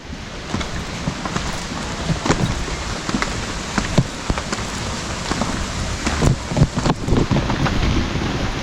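Steady rain patters on a mountain trail over a broad hiss, with occasional louder drops and scattered knocks, continuous and fairly close.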